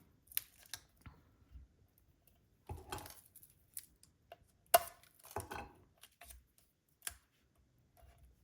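Scissors snipping through paper card while making quick Easter and spring cards: scattered short, crisp snips and small handling clicks spread over several seconds with quiet pauses between them.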